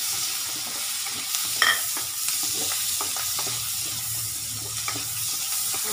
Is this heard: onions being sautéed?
yes